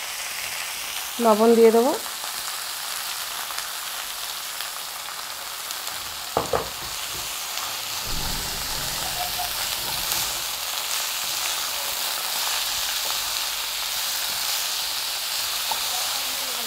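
Chickpea greens frying and sizzling in a pan, a steady hiss that swells after they go in, with a brief clatter of stirring; a voice speaks briefly near the start.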